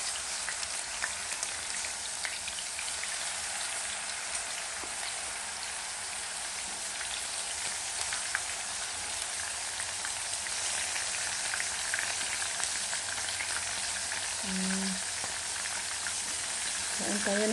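Sliced eggplant frying in hot oil makes a steady, dense sizzle and crackle that runs unbroken from start to finish, close and fairly loud, with no other sounds standing out.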